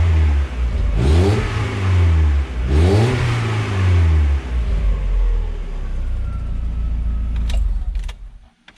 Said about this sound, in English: Let's see if we can get a nice little rev audio from here.